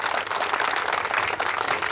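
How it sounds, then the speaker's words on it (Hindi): An audience at a school annual function in a remote village area gives a loud, dense round of clapping that stays steady throughout with no talking over it. "मैं चाहता हूं इस साहस के लिए एक जोरदार ताली।"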